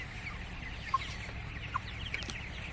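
Thirty-seven-day-old tiger chickens cluck softly at a distance, with a few brief, faint calls over a low steady background hum.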